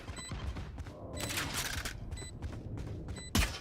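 Valorant gunfire comes in several sharp bursts of shots with quieter gaps between them, and a louder, closer blast lands at the very end.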